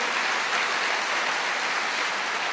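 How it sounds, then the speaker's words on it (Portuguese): Church congregation applauding the Lord during a sermon: a dense, even wash of many hands clapping, steady and moderately loud throughout with no distinct individual claps. "Pode aplaudir ao Senhor."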